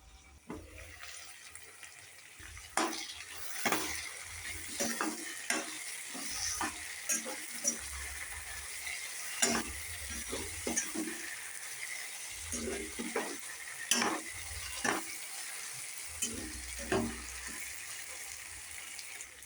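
Ginger garlic paste frying and being stirred in a pan for vegetable rice: a steady sizzle with repeated scraping stir strokes and occasional clinks, close and moderately loud, with no voices.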